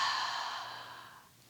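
A long, soft exhaled breath during a gentle beginner yoga session, breathy and airy, close to the mic and fading out over about a second.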